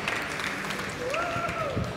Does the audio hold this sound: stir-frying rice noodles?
no